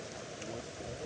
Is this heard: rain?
yes